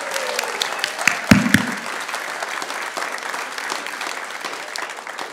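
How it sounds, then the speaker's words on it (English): A church congregation claps to welcome new members during a worship service, a steady broadband patter of many hands that builds quickly, holds at moderate loudness and carries on evenly to the end. "So you can clap"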